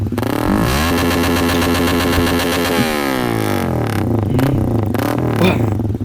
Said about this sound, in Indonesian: si abah keur nyeting motor euy